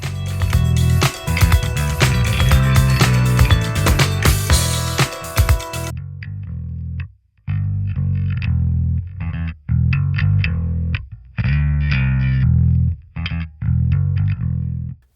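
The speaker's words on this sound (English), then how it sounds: "Gain pushes the incoming signal harder into BassAmp CM's drive stage, adding harmonics to the tone." A bass guitar runs through the Audio Assault BassAmp CM amp-sim plugin with its gain raised, a gritty, distorted bass line played in loud phrases, dense and harmonically rich at first, then in choppy bursts separated by brief silences.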